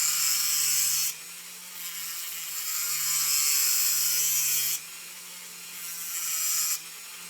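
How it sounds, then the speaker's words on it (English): A small round file rasps back and forth across a Hot Wheels Plymouth Cuda body to cut a bed for brass axle tubes, bright scratchy strokes in long, steady passes with brief pauses between, close and alone. "I just use a little round file."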